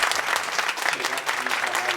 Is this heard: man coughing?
no